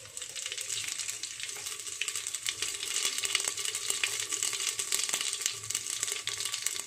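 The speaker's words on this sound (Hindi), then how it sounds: "तड़का मैं पहले दे रही हूँ, पहले ही लगा रही हूँ तड़का" Cumin, coriander, black pepper and red chillies crackle and sizzle in hot oil for tempering dal, a continuous busy frying noise with scattered sharp pops and light clinks, no talking.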